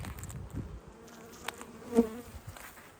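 Honey bees buzzing around hive frames during a honey inspection, a low steady drone close by with brief louder passes near the middle of the clip, no talking.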